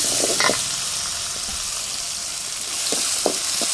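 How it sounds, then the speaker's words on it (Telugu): Freshly ground ginger paste hisses with browned onions in a pan over a wood-fired stove for a chicken curry, a loud steady sizzle with a few clinks and scrapes of stirring. "ఇప్పుడు అల్లం పేస్ట్ అయితే వేసుకోవాలి ఇది కూడా ఫ్రెష్గా రుబ్బుకున్న అల్లం పేస్ట్ అండి"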